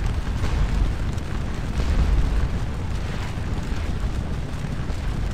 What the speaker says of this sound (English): The cannon are getting up.